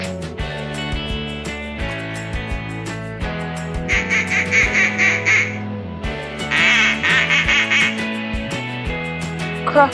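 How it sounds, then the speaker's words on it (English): Duck quacks come in two clusters of rapid, nasal calls over a steady musical backing with a regular beat, the quacks loud and close. "Duck."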